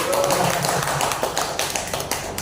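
Sustained clapping from an audience at a motivation and achievement training event, dense and steady throughout, fairly loud and close.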